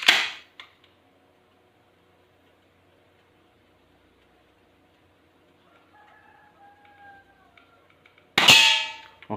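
A Glock Q1 airsoft pistol fires at a target 5 meters away: a sharp, loud snap at the start, a long quiet gap with faint tones, then another loud crack near the end.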